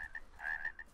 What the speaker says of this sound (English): Shut up, stupid frogs.